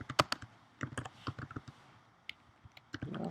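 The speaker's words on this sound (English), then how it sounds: "you can share the content just typing it into the input line" Typing on a computer keyboard, with irregular clusters of close, crisp key clicks separated by short pauses.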